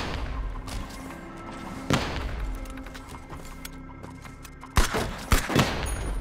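Gunfire in the video game Erra Exordium, set in a devastated city: scattered shots and short bursts, some sharp and close, with gaps between them and hardly any talking.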